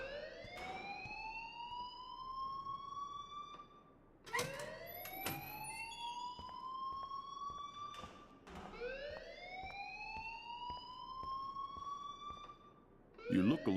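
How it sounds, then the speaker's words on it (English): A loud, urgent alarm sounds inside a school in the Life is Strange video game, its rising electronic whoop repeating in three long sweeps with short gaps and a few muffled thuds. "please turn off that alarm since that's your job"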